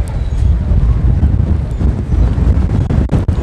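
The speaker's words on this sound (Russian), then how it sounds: "Ветер замечательный." Strong gusty wind buffets the microphone during a walk through the medieval walled city of Carcassonne, France, a loud continuous low roar with sharper bursts, no talking.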